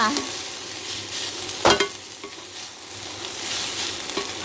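Fern vegetable stir-fried with chili in a pan: a steady, bright sizzle with a loud utensil clank and a few scraping stirs, close and without talk.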